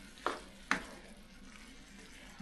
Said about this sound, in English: Dump those in there, and we're going to mix this up in here